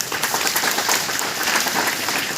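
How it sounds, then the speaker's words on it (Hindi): A church congregation claps together during a priestly ordination service, a dense, steady wash of applause filling the whole short stretch without talk. "हम तालियां बजाकर ईश्वर का"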